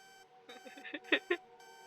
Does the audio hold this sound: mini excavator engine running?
no